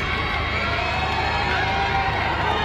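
A stadium crowd at a national championship men's javelin final cheers and roars for thrower Neeraj Chopra, making a continuous loud wash of shouting and noise with no pause.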